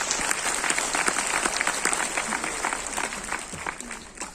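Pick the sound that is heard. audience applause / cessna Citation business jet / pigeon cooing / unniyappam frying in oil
audience applause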